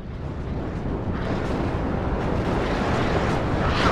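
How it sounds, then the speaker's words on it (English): Artillery barrages in the Cold War strategy game WARNO during a 10v10 multiplayer match, a dense, continuous roar of overlapping explosions and low rumbling booms, loud and unbroken for the whole stretch with no voices. "Artillery at your orders."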